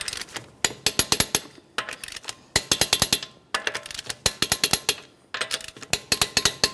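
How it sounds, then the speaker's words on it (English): A wrench torques the wheel lug nuts on a 2009-2014 Nissan Maxima in a crisscross pattern after the car is lowered, giving close, loud bursts of rapid metallic clicks in repeated runs with short pauses between them. "let's go ahead and torque these in a crisscross manner"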